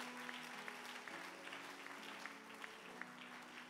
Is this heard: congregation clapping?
yes